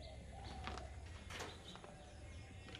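Pigeons released from a rooftop loft at a desi pigeon flying tournament, with faint chirps and coos and a brief flutter of wings over steady outdoor background noise.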